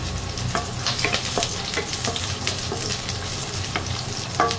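Fatty beef fries in cooking oil with a loud, close, continuous crackling sizzle, scattered pops and a few spatula scrapes throughout, with no one speaking.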